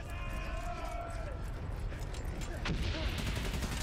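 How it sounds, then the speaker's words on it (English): Machine gun fire in the World War I game Valiant Hearts rattles as a dense, continuous barrage, with a brief whistling tone early on and a louder burst near the end, under a voice talking. "Oh no, machine guns."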